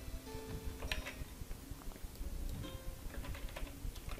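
Soft keyboard typing at a computer during map-editing software work, a quiet run of light irregular key taps over a faint room hum, with no voices.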